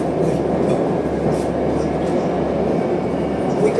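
A New Year-decorated "Snowman" metro train on the circle line roars steadily from inside the carriage, a loud continuous rumble of wheels and motors with faint clatter throughout.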